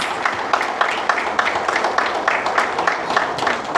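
An audience applauds steadily as the chief guest, Mr. Thomas, managing director of BMW, is welcomed to the dais at an evening speaker meeting; dense, continuous clapping at moderate loudness with no speech.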